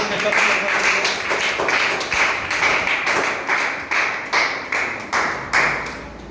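Clapping at a fourth birthday party, a series of distinct rhythmic claps in a steady beat that grow more separated and emphatic toward the end, close and fairly loud.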